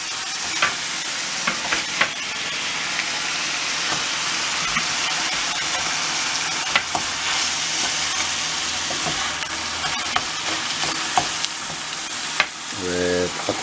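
Ground meat sizzles steadily in a hot pan for a potato and mince bake, a dense continuous frying hiss with occasional stirring clicks and scrapes throughout.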